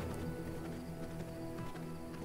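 Horse on a farm in V Rising, hooves clip-clopping at a steady walking pace under a dense, continuous game background.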